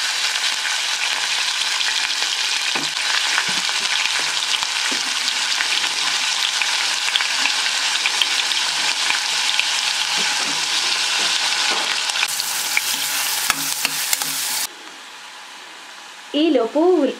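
Onions and green chillies frying in a pan for a Telugu gravy, a steady loud sizzle going throughout with brief clatters and stirring, then the hiss drops near the end.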